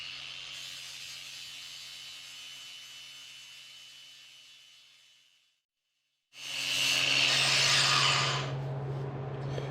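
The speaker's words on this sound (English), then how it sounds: "some safety glasses and a grinder. I've got just a flap disc on here" Angle grinder with a flap disc grinds off a car emblem, a loud steady whine that spins down into silence, then starts again with harsher abrasive grinding against the surface.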